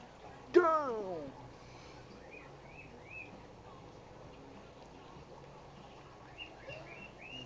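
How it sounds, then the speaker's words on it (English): A parrot gives one loud, sharp squawk near the start, followed by fainter chirps and short calls over a quiet outdoor background. "Did you hear that parrot?"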